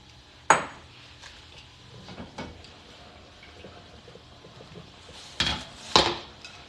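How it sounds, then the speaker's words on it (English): A utensil clatters against a pot while noodles are stirred, a few sharp knocks and scrapes spaced apart over a quiet background, with louder clanks near the end. "I gotta stir a little bit to avoid it to be stick to the pot"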